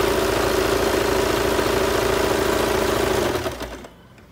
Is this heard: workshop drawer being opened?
no